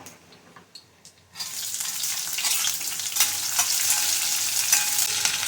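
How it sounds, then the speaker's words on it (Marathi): Green chillies and onion sauté in a pan, starting quiet with a few light taps, then bursting into a loud, steady sizzle that holds for several seconds. "मिरच्या जरा परतल्या की आपण याच्यामध्ये घालूया कांदा"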